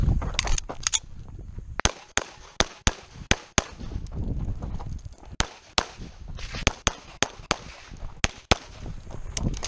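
Sharp gunshots ring out at a 2022 Western PA section shooting championship, about twenty loud cracks in quick uneven bursts over a noisy outdoor range.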